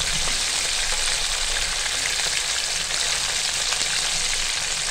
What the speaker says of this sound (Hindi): अच्छी तरह फ्राई हो रहे हैं